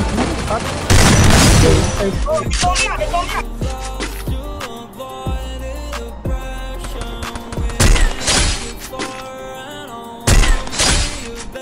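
Gunfire in the Free Fire battle royale game on mobile, heard as loud bursts of shots in clusters with sharp impacts, mixed with game effects and players talking over it.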